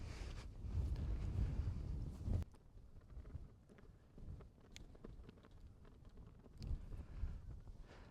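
Strong wind gusts buffet the microphone on an open golf course, a loud rumbling roar for the first couple of seconds, then easing to a lower, unsteady blustering that swells again briefly near the end.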